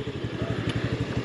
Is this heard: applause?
no